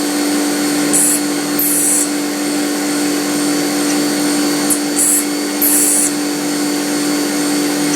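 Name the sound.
milling machine cutting a slot in a bolt action pen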